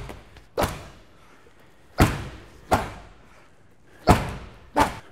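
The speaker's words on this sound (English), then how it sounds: "So I'm going to go overhead slam, catch it, press." A medicine ball is slammed overhead onto the floor during a fight-conditioning workout, five heavy thuds at uneven intervals, loud and close with brief decays and no talking between them.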